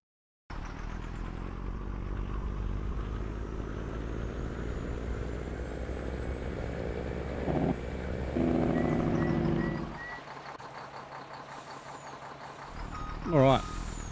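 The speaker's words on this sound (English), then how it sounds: "that's the Kenworth T600. Now, the engine sounds and that for this are awesome." Kenworth T600 truck in Farming Simulator rumbles steadily at a moderate distance, with a louder rising burst and a brief Jake brake-like chatter near the end while a voice talks over it.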